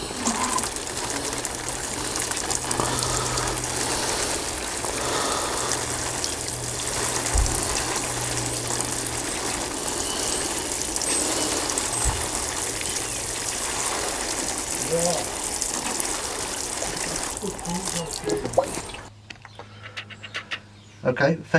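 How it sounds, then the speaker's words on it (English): A watering can pours a steady, heavy stream over pots of freshly sown sweet pea seeds in compost. The rushing water runs unbroken for about nineteen seconds, then stops abruptly, leaving near silence. "the next part is to absolutely drench them"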